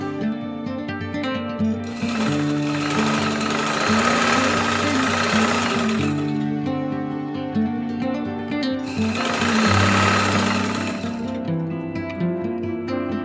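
A sewing machine stitches a golden fabric piece in two steady runs of whirring, each several seconds long, with a pause between them and background music throughout.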